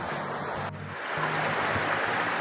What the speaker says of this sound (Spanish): este es el río que sale de agua caliente